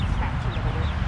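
Chickens clucking at a farm petting zoo, a steady close-up barnyard murmur of low clucks with no clear gaps, filling the whole moment without talk over it.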